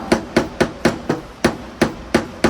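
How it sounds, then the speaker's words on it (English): A plastic rubber-tipped hammer taps a car fender's high crown nine times in a steady, evenly spaced rhythm, each strike a sharp, close knock with a quick decay. "I'm going to use this plastic rubber tip hammer to blend down the high crown"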